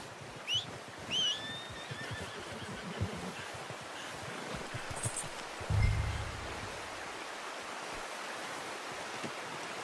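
In Red Dead Redemption 2, set in the Ambarino Mountains, a horse whinnies twice early on and its hooves thud softly, over a low wind-like ambient bed with a deeper thump midway.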